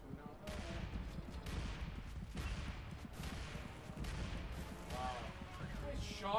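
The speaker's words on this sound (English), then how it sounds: "Who's shooting me? Oh, they're shooting." Dense, continuous enemy gunfire in the video game Dark Sector, a steady stream of overlapping shots and bursts at close range with game effects, with a voice talking over it.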